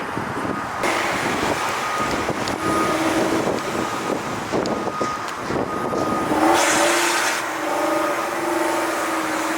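A car drives slowly up onto a raised spot near an old junior high school, its engine a steady close rumble mixed with wind buffeting the microphone, swelling briefly as it climbs.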